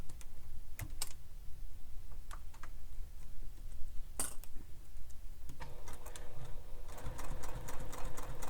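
A sewing machine back stitches along a fabric bow, giving a steady close mechanical whirr of rapid needle ticks with a few sharper clicks, then running faster and denser near the end, with no voices.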